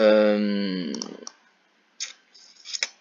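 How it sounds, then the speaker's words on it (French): A few soft clicks of a delete key being pressed on a computer keyboard, following a fading voice, then a short pause and small clustered taps close by. "je supprime au clavier. Supprimer, supprimer, supprimer et supprimer"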